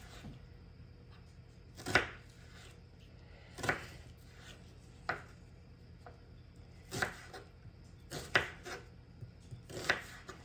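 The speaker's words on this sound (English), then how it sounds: "I just took a small onion and cutting it up here" A knife cuts up a small onion on a board, giving about eight sharp, separate thunks at an uneven pace. The strikes are close and fairly quiet, with no talking.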